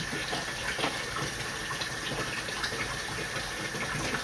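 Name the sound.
water released from a filled utility sink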